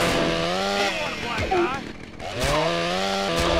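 A chainsaw revving in GTA San Andreas during a fight against a bald man, its harsh buzzing engine whine rising and falling continuously, loud and close, with game music and effects underneath.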